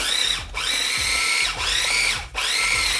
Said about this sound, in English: And then we go for the grind. And you want to grind that up nice.